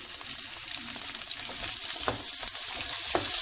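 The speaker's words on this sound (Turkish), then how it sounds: "Bu şekilde soğanla biberi kavuracağım." Chopped onions and peppers fry in oil in a pan for a Kilis kebab, giving a steady close crackling sizzle with occasional sharper pops and stirring scrapes, no talking.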